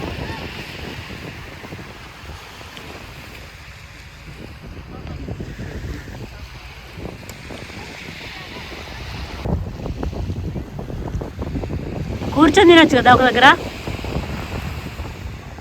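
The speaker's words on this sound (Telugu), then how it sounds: "కొంచెం చల్లగా అనిపిస్తుంది, గాలి బాగా వస్తుంది" Strong wind gusting across a beach strewn with broken shells, a steady low rumble of wind and surf buffeting the microphone throughout, with people talking over it and a brief rise near the end.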